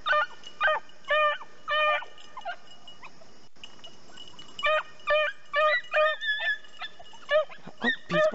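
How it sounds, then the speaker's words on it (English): Beagles on a rabbit hunt bark and yip in bursts, high squealing barks in rhythmic clusters with a pause in the middle, fairly distant across open ground. "Yep, that's him. Little tiny barks up there."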